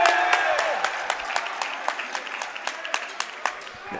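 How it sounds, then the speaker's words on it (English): Spectators at a high school basketball game between Sunrise Christian Academy and Link Academy clap in a steady, rhythmic beat close by, with a voice faintly underneath. "We got the Link guys right next to us, so that's clapping"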